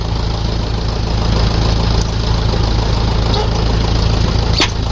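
A 1964 David Brown 880 tractor runs with its clutch engaged while the gears still knock, a loud close diesel drone with a steady low throb that holds without a break, and no talking.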